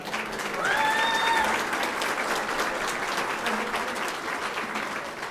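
Applause from a crowd at a Rialto Unified School District board meeting after the swearing-in of the board president, steady and moderately loud, with a brief whistle-like tone early on.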